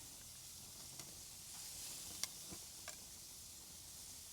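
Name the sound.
pineapple with butter, Grand Marnier and Saigon cinnamon sizzling on grill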